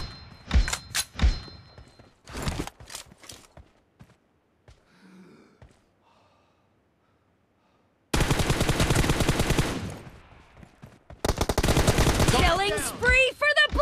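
M416 assault rifle fire in a PUBG Mobile team deathmatch, heard as sharp bursts early on, then a quiet stretch and two long, loud, sustained volleys of automatic shots.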